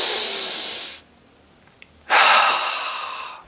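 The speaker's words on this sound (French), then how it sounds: "Allez, on respire ensemble." Deep breathing done slowly during a guided breathing exercise, a long loud exhale of about a second, a short pause, then a deep airy inhale, close to the microphone.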